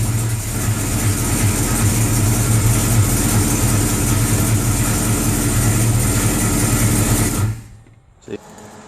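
A 1973 Plymouth Satellite with a 451 big-block stroker idles with no exhaust fitted, giving a loud, raw, rapid chatter up close. It runs steadily for about seven seconds, then cuts out abruptly, leaving near silence.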